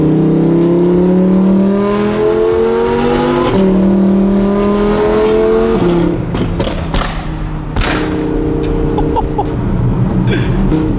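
A BMW M3 CS accelerates hard through several gears, its engine note climbing loudly and dropping at each shift, with thumps between the pulls, heard up close from the car with no talking.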